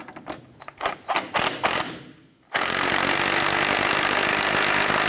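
Tightening a sway bar link nut on a 1994-2004 Chevrolet S10: a few ratcheting clicks and clanks, then a loud steady power-tool whir that runs to the end, close by with no talking.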